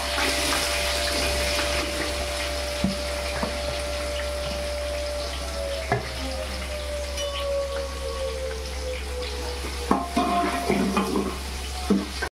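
Mustard seeds, cumin, curry leaves and onion fry in hot oil in a pan for kande pohe, a continuous sizzle and crackle with occasional spoon scrapes and clinks, close and steady with no talking.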